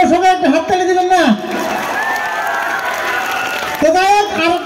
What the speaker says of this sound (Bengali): সবাই একটা হাততালি দিবেন না